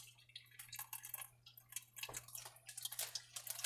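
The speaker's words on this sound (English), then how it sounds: "so I'm going to put some water in now" Water is poured into a plant germination bag, heard as irregular close trickles and drips with small splashy bursts, fairly faint.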